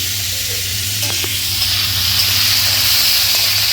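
Small cauliflower pieces sizzle loudly in a frying pan, a constant close hiss with faint stirring scrapes and no talking.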